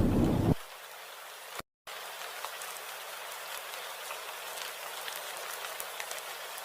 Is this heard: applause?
no